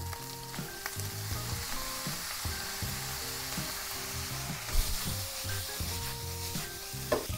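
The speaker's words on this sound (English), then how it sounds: "I can hear the sizzling of the pork. It's starting to fry." Pork sizzles and fries in a dry pan being deglazed with fish sauce, a steady crackling hiss with occasional stirring scrapes and small pops, close and without talk.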